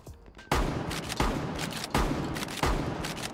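Shotgun blasts in the tactical shooter Rainbow Six Siege, four loud, evenly spaced shots about two-thirds of a second apart, each a sharp crack with a decaying tail, near and alone with no talk.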